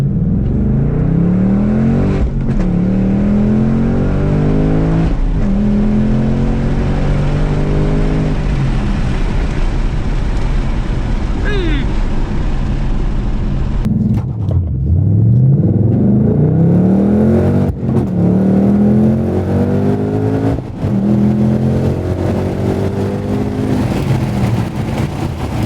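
A new Ford Mustang's engine revs repeatedly on launch control, loud and close, with rising and falling sweeps, brief pauses and sharp blips over a constant low rumble.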